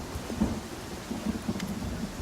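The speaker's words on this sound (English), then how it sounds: "because all this rain. Pretty extreme." Steady rain patters in Pathfinder: Kingmaker, with low, rumbling thunder rolling softly underneath, continuous and moderately quiet, no voices.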